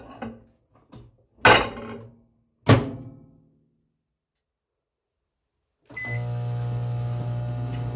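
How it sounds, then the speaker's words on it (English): A few clunks and knocks, a short silence, then a microwave oven starts with a brief beep and a steady, droning hum that continues to the end. "I'm going to pop it into my microwave so we can kind of speed things up"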